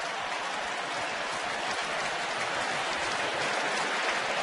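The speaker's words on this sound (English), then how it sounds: "The fan makes a great catch down the line and gets a standing ovation." A baseball crowd at a Tampa Bay Rays versus Toronto Blue Jays game rises in a standing ovation. Dense, steady applause and cheering fill the ballpark without a break.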